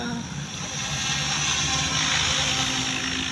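A SAB 580 radio-controlled helicopter flying at a university field, its rotor and motor giving a loud, steady whirring buzz throughout, with a voice talking over it.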